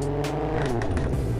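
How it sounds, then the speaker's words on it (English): Car engine revving from a standstill in the driving game Driving School Sim, a throaty rising and falling engine note with sharp crackling bursts across a brief stretch, steady and close. "Let's rev the car a little bit."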